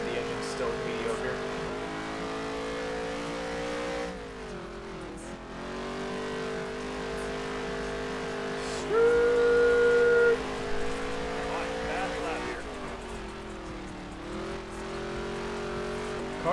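A race car engine drones at high revs around the Charlotte oval in a racing video game, holding a steady buzzing tone that dips and climbs as it lifts and accelerates, with a voice talking over it.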